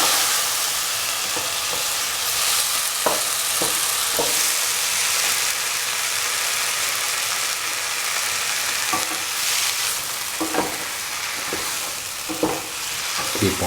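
Eggplant fried rice mixture sautéing in a pan, a loud continuous sizzle punctuated by repeated scraping and stirring knocks of a spatula, close up with no talking.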